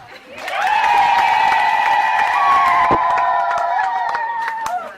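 Crowd at a wedding celebration clapping and cheering for the elderly couple getting married, with a sustained sung or shouted tone riding over the noise throughout.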